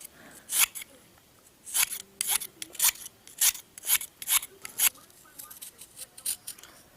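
A ceramic knife blade bites into and slices a hard material, giving repeated dry rasping scrapes in short bursts, close up and fairly loud, with brief pauses between strokes and no talk.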